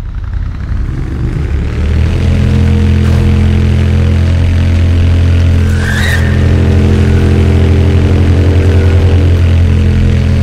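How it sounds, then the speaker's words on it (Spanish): Steady, loud motorcycle engine in Tomb Raider Underworld, set on Jan Mayen Island, droning with a constant hum and a slight swell in revs throughout, with no talk over it. "la última vez que vamos a tomar la moto, así que disfrutarla lo más posible"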